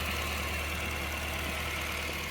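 Toyota Previa engine idling steadily as it warms up after new fuel injectors, a constant low droning hum with a faint even knock throughout, no voices.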